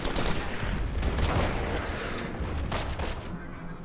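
A Soviet T-70 tank firing on cavalry in the wargame Order of Battle, a dense loud barrage of shots and booming impacts rolling together and slowly easing off.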